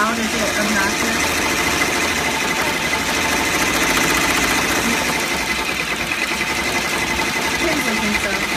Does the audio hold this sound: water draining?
no